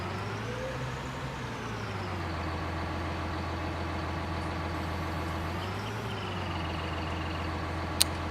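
A tractor idles in Farming Simulator 19 inside a manure-filled barn: a steady low diesel throb with faint pitch swells, continuous and fairly close, ending in a brief sharp click.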